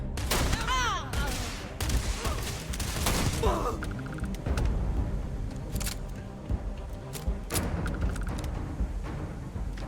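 Gunfire in the video game Starfield: rapid bursts and single shots that crack sharply over a busy background of game effects, loud and close, in irregular clusters.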